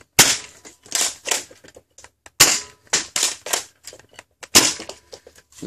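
A Nerf Rival Knockout blaster fitted with a half-dart kit fires bamboo half darts, sharp loud snapping shots in quick bursts of two to four with brief pauses between, close and with no talking.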